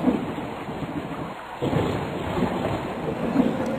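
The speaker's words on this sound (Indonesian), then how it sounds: "Lalu turunlah hujan tersebut sampai ke bumi." Steady rain falls with rolling rumbles of thunder, a continuous dense wash of drops and low booms, fairly loud with no talking.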